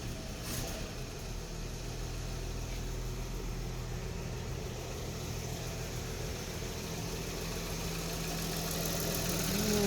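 A 1955 Chevrolet Bel Air engine idles smoothly and steadily, a close, even rumble with a faint chattering exhaust leak, swelling slightly toward the end, with no one talking.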